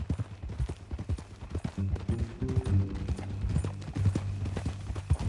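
Horse hooves clip-clopping in Red Dead Redemption 2: a steady rhythmic run of close, hollow hoofbeats over a low rumbling bed, with faint background sounds mixed in throughout.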